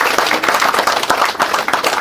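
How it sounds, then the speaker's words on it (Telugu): Audience clapping in a hall, a steady dense patter of many hands at moderate loudness throughout, with no voices over it. "నాగార్జున గారికి గట్టిగా మనం"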